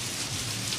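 A brief burst of steady, hissing rain falling inside a store, dense drops pattering continuously on a surface.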